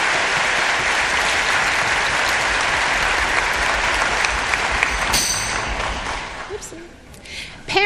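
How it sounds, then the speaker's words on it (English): An audience at an All County school band concert gives sustained clapping to thank the band coordinator. The applause is loud and dense, then thins and dies away near the end. "Yes, clap for him."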